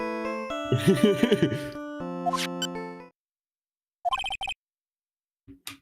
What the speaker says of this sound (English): You have a children's show as a ringtone.